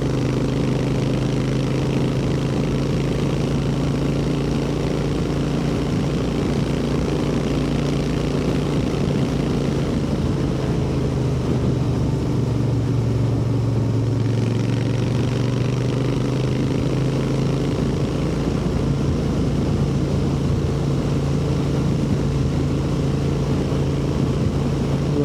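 Interceptor 650 motorcycle on a ride, its engine and exhaust giving a steady, continuous drone that stays close and even for the whole stretch, with a slight dip midway and no voices.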